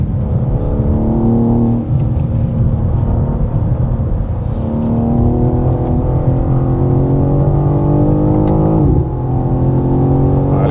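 A 2025 BMW M4 CS on a racetrack accelerates hard, its engine note loud and steady as it climbs through the gears, with a brief dip around a shift near the end.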